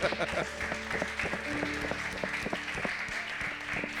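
A church congregation at a Bible study class applauds, a steady wash of many hands clapping at moderate volume while a voice speaks over it.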